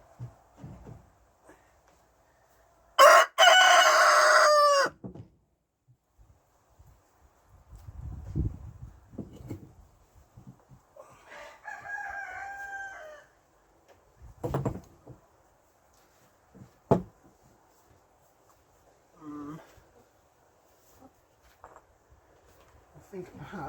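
A cockerel crows at a cabin among chickens, one loud, full call near the start, then fainter distant crowing later, with sparse clatter and knocks in between and occasional talk.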